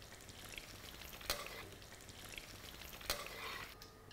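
Jackfruit pieces fry in oil for a spiced kathal sabji, a quiet continuous sizzle with two brief sharper clatters of stirring, no one speaking.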